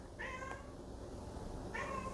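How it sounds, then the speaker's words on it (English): A pet cat meows indoors twice, two short bright calls about a second and a half apart, close but fairly soft against quiet room noise, with no speech. "My kitty's meowing."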